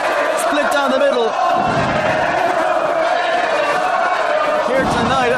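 Wrestling crowd at an AJ Styles versus Chris Daniels Irish Whip Wrestling show chanting for the Fallen Angel, a loud, dense roar of many voices with rhythmic chant swells, filling the whole stretch.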